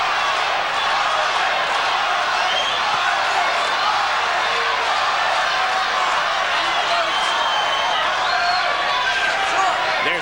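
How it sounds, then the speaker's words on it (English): A boxing arena crowd chants the fighters' names during a bout, a dense, steady roar of many distant voices that fills the space without letup. "it sounds to me as though some people are chanting Michael and some are chanting Starling"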